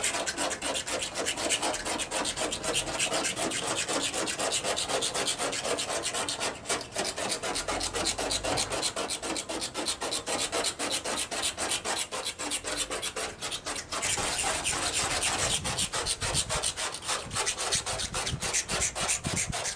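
Steady, continuous scraping of a blade removing paint overspray from a car's painted surface, harsh and rasping, going on without pause for the whole stretch.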